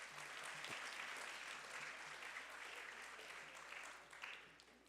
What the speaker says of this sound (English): Another round of applause for them.